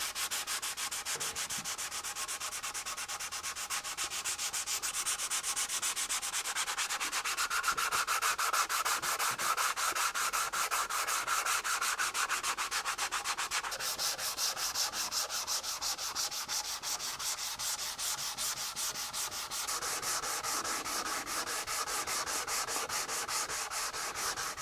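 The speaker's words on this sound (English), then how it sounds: "I'm going to be here for a while sanding away at this guitar" Sandpaper rubs back and forth over a wooden guitar body in a long, steady, rasping rhythm, close and continuous with no talking.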